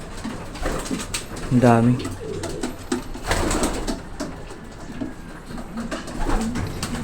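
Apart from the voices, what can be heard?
breeder stock pigeons cooing in a loft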